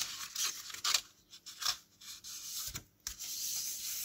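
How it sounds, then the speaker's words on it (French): Paper being creased along a fold against a template, heard as soft rubbing and scraping strokes in irregular short pulses, close and quiet with no talk. "je viens bien marquer mon pli"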